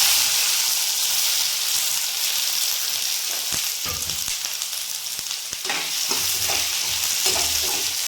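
Onion frying in hot oil with cumin and leaves, a steady close sizzle with a few stirring clicks and scrapes, no talk.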